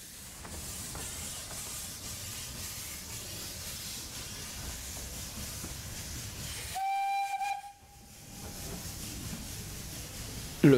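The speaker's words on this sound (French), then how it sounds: "Dernier coup de sifflet, et c'est le retour au garage pour la Meuse et le reste du matériel" A steam locomotive on the heritage Chemin de fer de la Vallée de l'Ouche sounds a clear, sustained whistle amid steady hissing steam and rolling-stock rumble, with a brief loud knock at the end.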